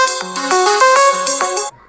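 A phone ringtone from an incoming call plays a loud, bright electronic melody of repeating tonal phrases for nearly two seconds, then stops abruptly.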